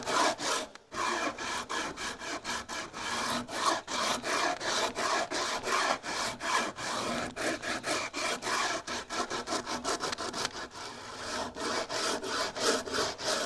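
Steady rhythmic rasping as the fine side of a rasp is stroked back and forth over a wooden cigar box guitar neck, strokes quick and even, close and moderately loud with no talking.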